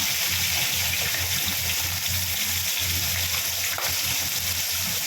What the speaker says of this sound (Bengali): আমি একটু ভেজে নিচ্ছি, হালকা ভেজে নেব